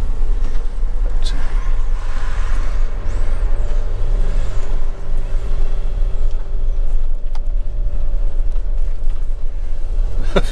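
A Swift Kon-Tiki Sport 574 motorhome on the road, with a steady low engine and road rumble throughout, a faint hiss of passing traffic and occasional short clicks.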